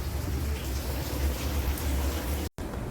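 Steady rain patters continuously on a surface, an even hiss with low rumble, interrupted by a momentary cut near the end.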